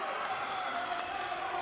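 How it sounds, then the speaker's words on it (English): A hometown crowd at a high school wrestling match on senior night makes a dense, steady murmur with scattered cheers, heard from a distance with no distinct peaks. "Hometown crowd cheering for Megerson."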